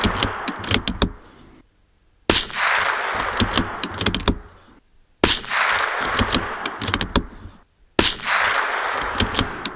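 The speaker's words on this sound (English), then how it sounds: "Okay, let's do some shooting." A Remington Thunderbolt .22LR rifle fires at a range, with a few sharp cracks spaced a few seconds apart, each followed by clicking and handling noise. The shots are close and there is no talking.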